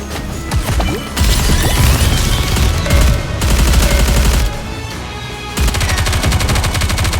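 Rapid automatic gunfire rattles loudly in Goddess of Victory: Nikke, in dense sustained bursts broken by brief pauses, with sharp impacts layered under the shooting.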